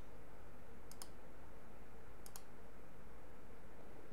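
A computer mouse gives two crisp, quiet clicks about a second apart, close by in an otherwise still room.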